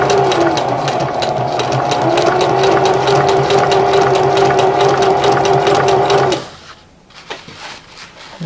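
A sewing machine stitches ribbons onto the front of a show ribbon garment bag, a loud, close, rapid mechanical whir with a steady pitch that runs for about six seconds, then stops, leaving faint handling sounds.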